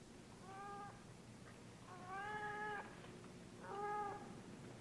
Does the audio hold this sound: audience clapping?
no